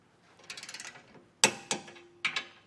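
Ratchet wrench tightening Blue Ox base plate bolts on a 2019 Chevrolet Traverse, with a quick run of close clicking followed by several sharp metallic clacks and short ratcheting bursts.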